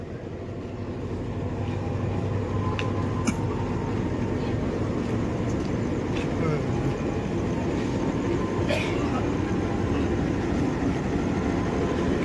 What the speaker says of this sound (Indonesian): Ini kereta api Sembrani tambahan membawa priority juga nih